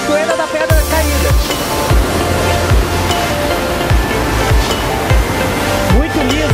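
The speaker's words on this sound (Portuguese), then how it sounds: "por isso o nome de Cachoeira da Pedra Caída." Steady roar of the Cachoeira da Pedra Caída waterfall on a river, broadband rushing water continuing throughout with faint low thumps, no speech over it.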